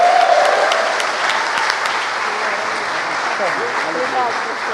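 A church congregation applauds during a Portuguese-language evening service, dense continuous clapping filling the room throughout, with a voice speaking over it at the start.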